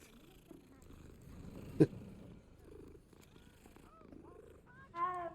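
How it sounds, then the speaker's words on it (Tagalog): A cat purrs softly in Hogwarts Legacy, a low continuous rumble with a sharp click partway through and a short rising mew-like call near the end. Quiet background sounds run underneath. "Uy, may pusa na naman."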